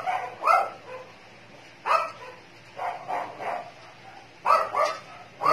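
A pet dog at home barks and yips in short, irregular bursts, several sharp calls spread across a few seconds. It is fairly close and clear, with quieter whimpering between the louder barks.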